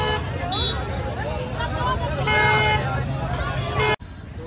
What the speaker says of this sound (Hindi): हम रास्ते पे चल रहे हैं और सब हॉर्न मार रहे हैं